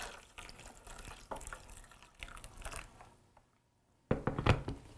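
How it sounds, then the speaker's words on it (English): Boiling water pours and splashes onto pine needles in a pan in an uneven stream that pauses, then resumes with a louder, closer splash near the end. "I'm going to pour boiling water on them"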